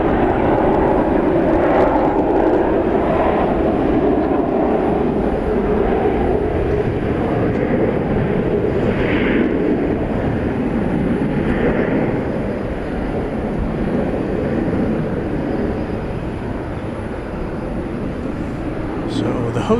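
An America West airliner passes at night over an airport, its broad engine roar steady and fairly loud throughout, slowly fading toward the end with distant background noise.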